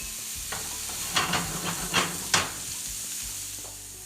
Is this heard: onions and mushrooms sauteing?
yes